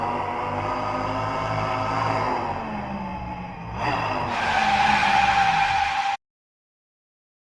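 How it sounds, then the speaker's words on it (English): Designed car sound effect of a revving engine with tire squeal, a loud rising and falling engine drone followed by a bright screeching squeal that cuts off abruptly into silence. "it does kind of sound like the car is stationary and revving up"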